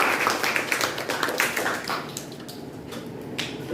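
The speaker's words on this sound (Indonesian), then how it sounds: "tepuk tangan dulu." Students in an Islamic religious education class give a short round of applause, scattered crisp hand claps that thin out over a few seconds with little talk.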